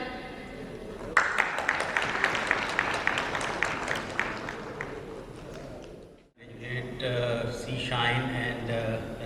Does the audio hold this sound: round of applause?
yes